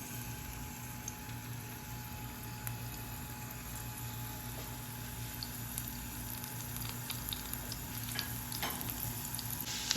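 Chopped ginger and one green chilli fry in hot ghee in a home kitchen, a faint, steady sizzle and crackle running evenly throughout with no talk.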